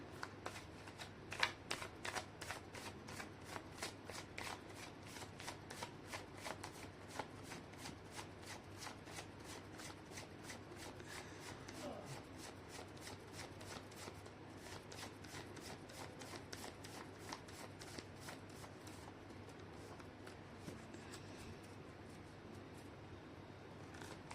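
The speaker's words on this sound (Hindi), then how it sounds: "मैं कर लेती हूँ कार्ड की शफलिंग।" Tarot cards are shuffled by hand in a long, steady run of rapid riffling flicks, close but quiet, continuing evenly for over twenty seconds with no talking.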